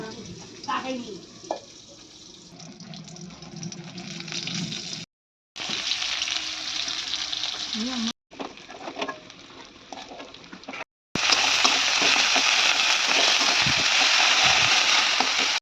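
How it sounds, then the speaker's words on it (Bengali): Bitter gourd and pointed gourd fry in oil with a busy, crackling sizzle, interrupted by a few brief breaks, the frying loudest and densest near the end. "দেখতে পাচ্ছেন করলা ভাজা হচ্ছে সাথে একটু পটল ভাজাও হচ্ছে"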